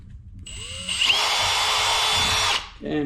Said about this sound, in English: So without further ado, let's get to drilling.